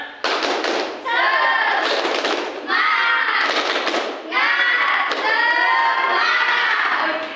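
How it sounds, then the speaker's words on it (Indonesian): A class of schoolchildren performs a rhythmic spirit clap routine, patterned rounds of clapping mixed with chanting and shouting voices, in repeated loud bursts separated by brief pauses. "Sekarang kita tepuk semangat."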